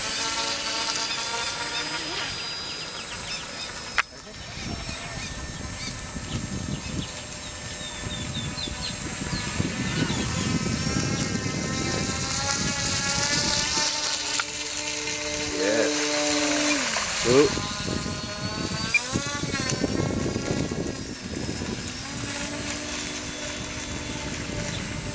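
The motor of an RC rescue boat fitted with a smaller prop revs up in a steady whirring drone with rising and falling pitch sweeps, heard alongside outdoor background noise and some talk.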